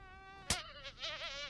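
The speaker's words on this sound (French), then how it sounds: "Oh oui, il y a une mouche." A fly buzzes close by in a thin, steady whine that wavers in pitch, with a couple of louder swells as it passes near.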